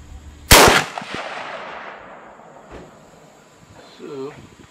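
A single loud .30-06 rifle shot cracks out at a 50-yard range, its report decaying over a couple of seconds before someone speaks.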